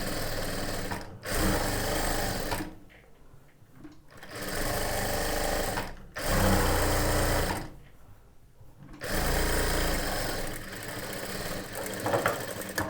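A sewing machine stitches cloth to attach a lining, running in loud, close bursts of fast, even whirring and separated by short pauses while the fabric is turned.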